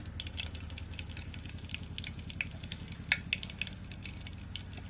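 Asafoetida sizzling in hot oil in a village kitchen, a faint, close crackle with scattered small pops over a steady low hiss, no voices.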